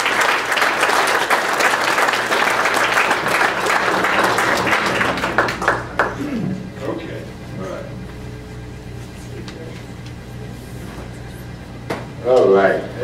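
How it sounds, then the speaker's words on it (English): A crowd at a school district staff welcome-back event claps loudly for about six seconds, then the applause fades into quieter room noise with scattered taps and a brief voice near the end. "if you'll just give him a round of applause"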